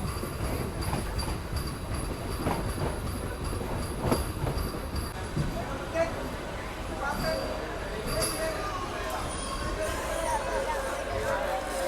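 A MEMU passenger train at a station gives off a steady rumble with faint clacks and squeals, under nearby chatter of people.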